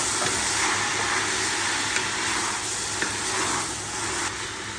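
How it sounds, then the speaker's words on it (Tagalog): Taro leaves sizzle loudly in a pan as coconut milk goes in, a dense steady frying hiss close up, broken by a few sharp stirring clicks, with no talking. "Lagyan natin na gata."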